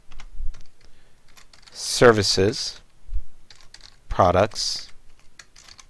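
Computer keyboard typing, rapid light key clicks in short bursts between spoken words from someone talking close to the microphone.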